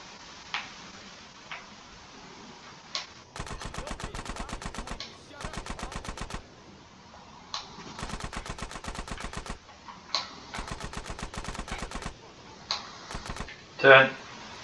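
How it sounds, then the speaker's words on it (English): Rapid-fire bursts from a gun in GTA San Andreas Definitive Edition, several rattling automatic volleys of even, quick shots separated by short pauses, close and fairly loud. "I need to try aiming and shoot at the same time"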